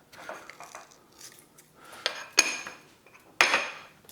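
Utensil mixing kohlrabi rémoulade in a bowl: soft scraping strokes followed by two sharp, close clinks of metal against the bowl, with no voices.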